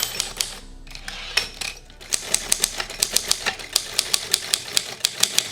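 A manual typewriter clatters in a steady run of sharp key strikes, a brief pause near the start, then quick irregular taps continuing loud and close, with no talk over it.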